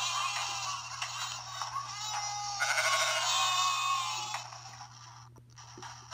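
Sheep bleating inside a stock car, a dense, continuous chorus of overlapping bleats at close range, steady and loud for about four seconds before thinning out into a few scattered calls.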